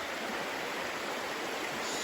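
Fast, oxygenated river water rushes into a deep green pool on a Hokkaido trout stream, a steady, dense, close roar of flowing water that holds unbroken throughout.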